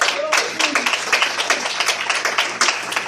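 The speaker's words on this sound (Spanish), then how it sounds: "Denle un aplauso al Señor Jesús" A church congregation claps together in a dense, fairly loud burst of applause that lasts a few seconds, with loose overlapping hand claps.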